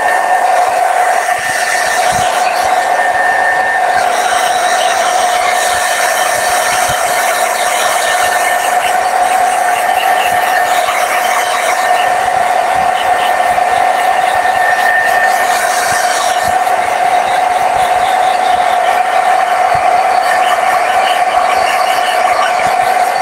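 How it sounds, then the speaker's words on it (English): A hair dryer blows steadily and loudly at close range over a watercolor butterfly painting, giving a constant whooshing roar with a tonal whine that runs unbroken throughout. "I'm gonna blow dry it now so that"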